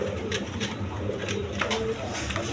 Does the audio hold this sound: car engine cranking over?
no